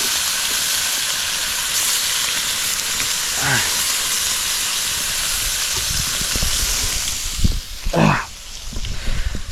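Fish fries in hot oil, a loud steady sizzle and hiss throughout, with a couple of louder bursts of spitting and clatter as more pieces go into the pan.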